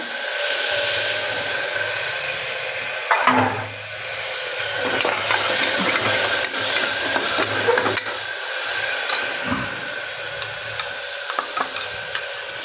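Mixed leafy greens added to a hot pan with oil and a pinch of asafoetida for khichdi, crackling and sizzling loudly up close while a spoon scrapes and stirs in irregular bursts.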